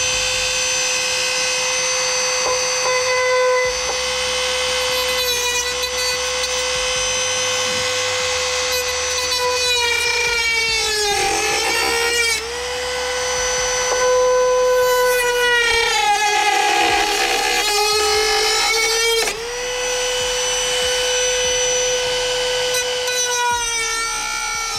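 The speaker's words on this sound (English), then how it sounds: "So I get out my Dremel and I'm basically going to wing this as best as I can." A Dremel rotary tool cuts through a Land Rover Discovery Sport body panel to clear a hitch frame, a loud high whine that dips in pitch as the bit bites into the panel and then recovers.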